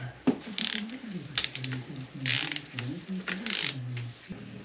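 A ratchet wrench tightens bolts on a first pass to 1.7, giving three short, crisp bursts of clicking spaced about a second apart while a man hums or mutters steadily underneath.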